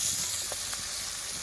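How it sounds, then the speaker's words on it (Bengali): Pieces of river baim fish sizzle steadily in hot oil in a village kitchen, a close, continuous bright hiss with small crackles and no voices. "এখন মাছগুলোকে হচ্ছে ভেজে নিব।"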